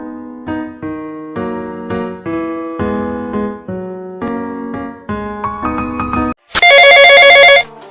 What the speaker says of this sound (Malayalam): ഹലോ സഞ്ജയ്, നീ എന്തിനാ വിളിച്ചേ?